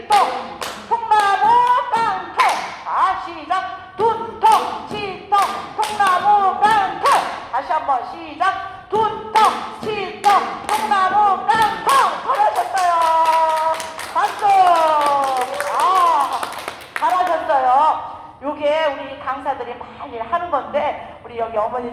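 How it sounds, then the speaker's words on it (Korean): Older adults at a senior-college laughter-exercise class clap hands in sharp, rhythmic bursts, a bright patter of claps mixed with laughing and call-outs from the group over most of the stretch. "이렇게 하면서 통에 박수를 치는 거야"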